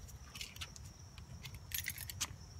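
Keys jangle in a series of quick metallic clinks and rattles, faint and close, in a quiet room with no talking.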